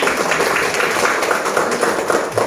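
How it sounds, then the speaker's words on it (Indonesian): Students in a school classroom clap their hands together, a busy, continuous patter of many hands at moderate volume that runs unbroken from start to finish. "Coba tepuk tangan dulu untuk kita."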